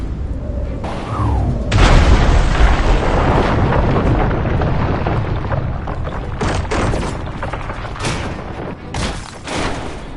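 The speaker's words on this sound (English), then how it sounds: "The mothership has somehow been destroyed! And I've been blown to smithereens!" A huge explosion of the alien mothership in the video game Destroy All Humans 2: a loud, sustained roaring blast with rumbling bursts and crackling debris that fills the whole stretch, with no talk over it.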